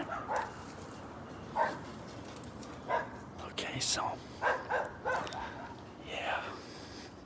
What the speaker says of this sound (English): Listen to these dogs.